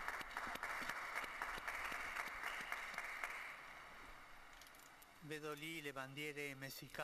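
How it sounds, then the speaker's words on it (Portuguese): A crowd at the Angelus prayer applauds the new blessed with steady, distant clapping that carries on for several seconds. It then fades under a sung or chanted voice that takes over at the end. "Um aplauso ao novo beato."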